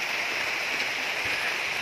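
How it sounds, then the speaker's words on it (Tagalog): Heavy rain pouring down outdoors, a dense, steady hiss that stays loud and unbroken for the whole short stretch, with no voices. "Malakas yung ulan."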